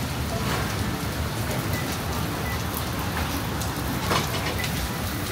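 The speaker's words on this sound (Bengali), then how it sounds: "তো বৃষ্টি।" Rain falls steadily at a resort, a dense, even patter that fills the background throughout with no break.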